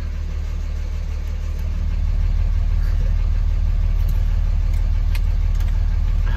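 A deep, loud 5.9 Cummins diesel truck engine rumble with a Spelab exhaust cutout open, running steadily and close, swelling slightly louder partway through, with a throaty low exhaust drone.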